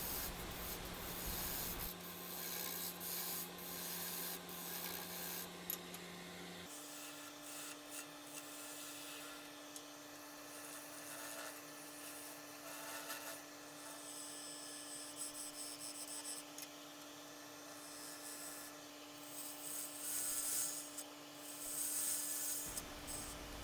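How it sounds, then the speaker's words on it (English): A 5/8 bowl gouge cuts across the bottom of a myrtlewood platter spinning on a lathe, giving a steady scraping, rubbing hiss under a constant motor hum that shifts pitch partway through. "still with the 5/8 bowl gouge here, just trying to flatten the bottom and mark out the area for the mortise and the foot"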